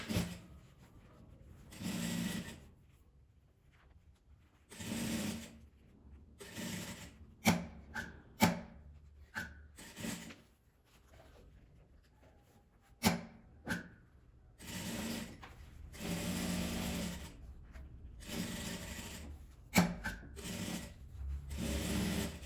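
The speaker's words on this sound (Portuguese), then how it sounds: "Eu vou costurar ele aqui em volta todo dessa parte." A sewing machine stitches around the edge of a small fabric mini bag in repeated runs of buzzing stitching that stop and start with short pauses between them, close by, with no talking.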